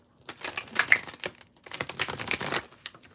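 Quick riffling clicks of playing cards being shuffled, two bursts of dense rapid flicking separated by a short pause, close and fairly quiet.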